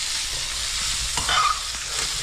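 Mopane worms sizzle steadily in a hot pan while being stirred, a dense close frying hiss with a brief scraping stir in the middle.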